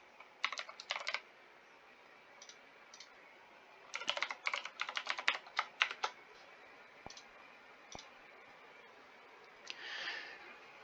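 Someone types an email address and password on a computer keyboard to log in, producing quick bursts of close key clicks separated by short pauses, with a faint breath near the end.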